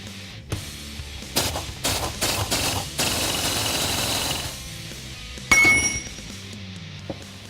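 Old ring gear being removed from a Ford 8.8 rear axle carrier on a Mustang: a run of sharp metallic clinks and rattling impact-tool bursts, close and fairly loud, with a final hard clank.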